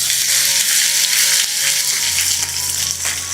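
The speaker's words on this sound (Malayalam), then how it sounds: "ചൂടായി കിടക്കുന്ന എണ്ണയിൽ ഇഞ്ചി ഇട്ട് കൊടുത്തത് കൊണ്ട് പെട്ടെന്ന് തന്നെ മൂത്ത് കിട്ടും." Chopped ginger frying in hot sesame oil with curry leaves, a loud dense crackling sizzle that stays steady throughout the short stretch, close up with no talking.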